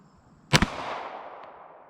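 A single sharp, loud shot from a Glock pistol firing a Hornady Hunter 115 grain 9mm +P Monoflex round at an outdoor range, with a quick second crack and a long fading echo.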